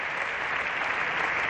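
Applause in the Spanish parliament from the government benches during a plenary session on Catalonia in 2017, a dense, steady clapping from many hands, distant and uniform throughout the short stretch.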